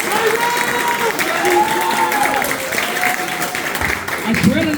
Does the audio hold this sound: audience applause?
yes